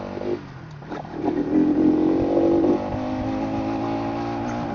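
A motorcycle with an abnormal running fault, its engine idling and briefly revving with a rough, uneven drone and faint rattling, close by and steady with no talk.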